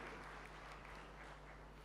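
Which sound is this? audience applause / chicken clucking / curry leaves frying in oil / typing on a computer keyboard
audience applause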